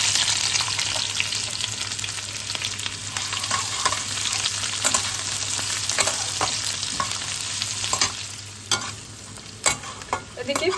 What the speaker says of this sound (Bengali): তেল সহ ঘিটা আমাদের গরম হয়ে গেছে। এবার আমরা কুচনো পেঁয়াজটা দিয়ে দিই।